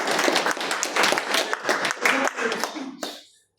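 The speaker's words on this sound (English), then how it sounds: "May I request all the audience to give a thunderous applause for my" Audience applause at a Toastmasters club meeting, a dense burst of many hands clapping together that carries steadily for about three seconds before quickly fading out, with no talking over it.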